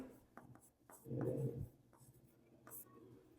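A pen scratches out strokes on paper during a Class 10 maths lesson on tangents, with short bursts of close scribbling and a louder stretch of writing mixed with a teacher's soft speech.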